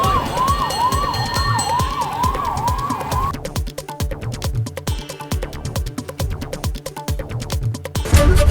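A fire brigade siren wails at a clothing showroom fire, first in a rapid rising and falling yelp, then switching to a dense pulsing pattern over steady rumbling background noise, loud and continuous.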